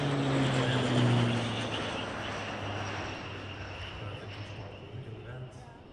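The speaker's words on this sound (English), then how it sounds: "uma passagem baixa em alta velocidade, sem o trem, podem verificar, mas bem mais rápido que há pouco" Airplane making a low, high-speed pass with gear up at an air show in Portugal, a loud broadband engine roar that swells early and slowly fades as it moves away.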